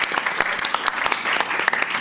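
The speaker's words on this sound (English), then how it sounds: "Please give a round of applause for them" Audience applause at a university debate at an Africa summit, dense steady clapping from a crowd filling the whole stretch at even volume, with no talk over it.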